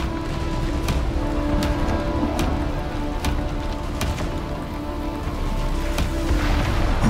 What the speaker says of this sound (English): You can hear the storm coming down.